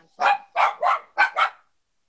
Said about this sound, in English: Is that Brian's dog or is that your dog